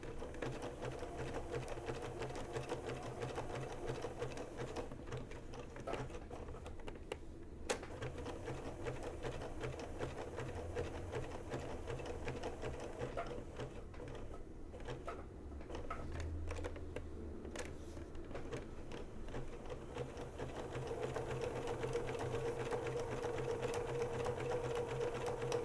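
A sewing machine runs steadily while stitching a small quilted leaf table topper, giving a continuous close mechanical whir with rapid needle clatter. It hums on without a break for the whole stretch and nobody speaks.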